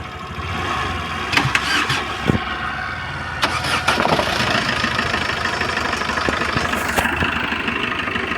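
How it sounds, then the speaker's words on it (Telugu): A Maruti Swift automatic with a gear complaint starts up, its engine catching and then settling into a steady, loud mid-pitched idle, with a few clanks and knocks early on. "మన ఇంజిన్ అనేది స్టార్ట్ అయితే"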